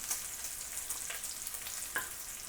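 Spinach and bacon cook undisturbed in a pan, a quiet, steady sizzle with a few faint pops and scrapes.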